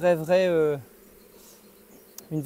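Honeybees at a hive make loud, close buzzing in a short burst, then a lower hum follows and the buzz returns near the end.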